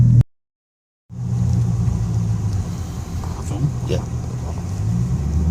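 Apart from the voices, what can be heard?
modified car driving past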